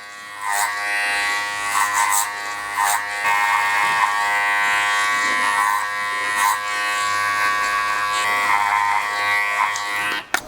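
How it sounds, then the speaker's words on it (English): Electric hair clippers buzz continuously and steadily up close while a clipper comb is run over the blend of a haircut on thinning, receding hair, with small shifts in tone as the blades move through the hair. "just using my clipper comb, I'm just going to run over the blend"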